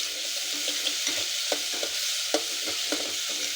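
Onion paste fries in hot oil in a cooking pot for chole, a soft continuous sizzle broken by repeated scraping stirs at an uneven rhythm, close up with no talking.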